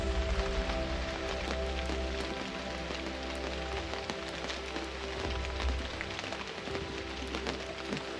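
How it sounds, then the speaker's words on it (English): Steady patter of rain on campsite awnings, a soft continuous hiss with scattered drips, alongside a low constant hum. "Well, the rain is coming down now"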